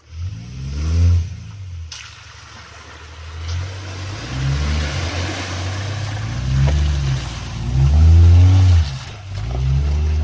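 A Subaru engine labours and revs in uneven surges while climbing a rough 4WD track, loud and close with a rumbling low drone that rises and falls, no talking.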